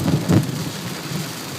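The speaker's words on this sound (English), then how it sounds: "Nice thunder." Thunder rumbles low and deep during a heavy rainstorm in a flooding October downpour, a couple of close booming rolls fading into steady rain hiss.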